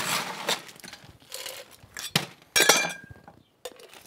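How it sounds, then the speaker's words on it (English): Ice cubes clatter into a metal cocktail shaker tin for a Sidecar, a few loud, sharp clinking bursts separated by brief pauses, close up. "Fill our shaker with ice."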